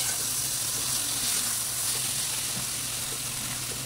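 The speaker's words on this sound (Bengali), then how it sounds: "এর মধ্যেই ডালটা ছেড়ে দিচ্ছি। তো ডাল ঢেলে দিচ্ছি।" Chickpea dal sizzles in a pan with fried onions, giving a steady, faint, close hiss of frying with no talking.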